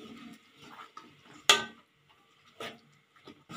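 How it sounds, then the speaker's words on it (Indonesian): A metal utensil stirs meat in a pot of boiling broth. It gives one sharp clank against the pot and a few softer scrapes and knocks, quiet and close. "Diaduk-aduk seperti ini ya."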